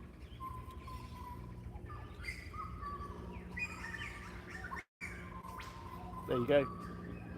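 Birds calling outdoors during a whiffle ball session, chirps and tweets scattered across the clip under steady background noise and a brief spoken phrase, with a louder burst of calls near the end.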